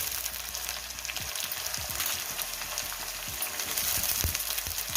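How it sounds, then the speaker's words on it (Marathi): Steady loud sizzling of potato, brinjal and pumpkin sautéing in a hot pan, with occasional stirring scrapes and clinks close up, no talking. "तर ही परतत आले बटाटा आता आपण याच्यामध्ये हे वांग आणि भोपळा आणि कट करून घेतलेला ते टाकून घेऊयात"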